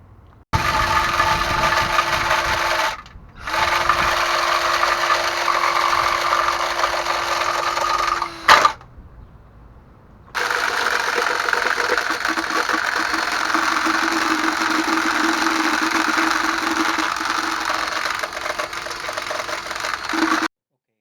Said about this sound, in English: so after I use the rust knocker, this is how it looks inside